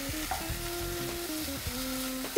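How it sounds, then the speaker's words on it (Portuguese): Chopped bacon fries in a dry frying pan with no oil, rendering its own fat, a steady soft sizzle under faint scraping stir sounds and a brief clunk at the end. "Você pode deixar ele fritando que ele vai soltar."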